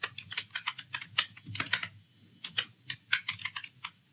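Rapid keystrokes on a computer keyboard while code is typed, coming in quick clustered bursts with brief pauses, close and clear with no talking.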